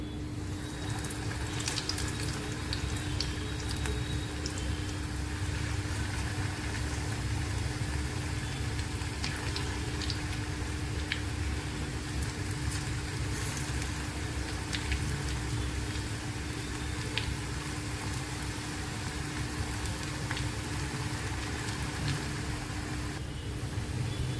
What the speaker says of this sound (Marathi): ती तळून घेऊया.